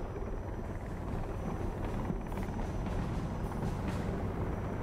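Helicopter in Sons of the Forest, a steady, loud rotor and engine drone with a faint rhythmic beating, continuous throughout, with no talking.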